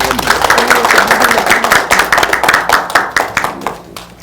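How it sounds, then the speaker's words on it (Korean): Audience clapping closes a political meeting on after-school program legislation, with distinct rhythmic hand claps, fairly close and loud, thinning out toward the end. "박수로 마치도록 하겠습니다"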